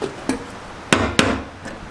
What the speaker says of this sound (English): And you just hammer it sideways.